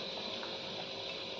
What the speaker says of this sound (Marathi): हे छानपैकी उकळी आलेले आहे. आता मासे पण शिजलेले आहेत आपले.